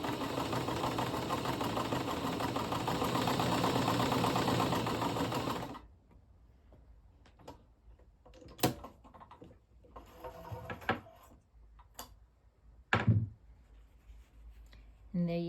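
A Janome/New Home Model 702 sewing machine running a blanket stitch, a steady close mechanical whirring for about six seconds before stopping, followed by near silence broken by a few faint clicks and handling noises.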